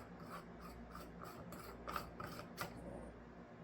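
A part on a Glacier Bay 2021 model shower control is unscrewed to reach the cartridge: faint, close ratcheting clicks and small scraping ticks in an irregular run, quiet and alone.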